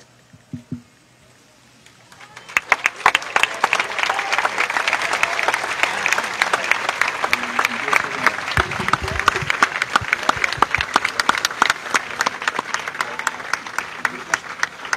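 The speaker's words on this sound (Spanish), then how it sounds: "un aplauso más fuerte para este excelente trabajo" Loud audience applause at the Cempoala 2023 video mapping festival, sustained dense clapping from a large outdoor crowd that starts abruptly after a brief quiet moment and keeps going at full strength.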